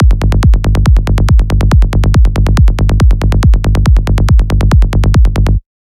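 A psytrance kick and bass line without LFO Tool sidechain processing pound in a fast, even rhythm, each punchy kick followed by a rolling bass pulse, loud and alone before stopping abruptly.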